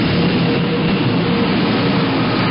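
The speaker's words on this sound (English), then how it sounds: "The sound unlike any train ever heard." Amtrak Turboliner train arriving at a turn-of-the-century depot, a loud, steady jet-like roar with heavy low rumble that holds close and constant throughout.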